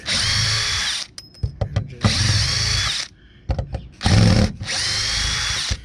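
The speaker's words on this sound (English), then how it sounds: "Now these I use a cordless on, and these are just a square bit." A cordless drill with a square bit whirs in three loud, close bursts as it backs screws out of a spa cover, with clicks and handling noises in the pauses.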